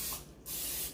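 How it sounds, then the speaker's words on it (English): Cooking spray hisses in two short bursts into the wells of a muffin pan, close and clear with a brief gap between sprays. "So I'm gonna use some cooking spray, and I'm just gonna go a little circle in each well."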